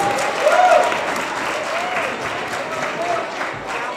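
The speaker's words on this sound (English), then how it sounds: "Give yourselves a round of applause." Audience applause at the close of a civics bee event, a steady wash of clapping from a crowd that holds for several seconds at moderate loudness with no voices over it.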